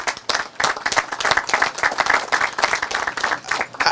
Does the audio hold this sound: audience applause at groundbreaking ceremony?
yes